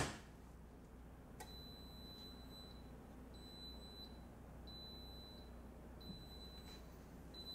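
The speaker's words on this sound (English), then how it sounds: "that curing cell is about to start beeping" Curing cell timer in a TaylorMade tour-truck workshop, curing a SIM driver, emitting repeated high electronic beeps in evenly spaced bursts, faint over a low hum.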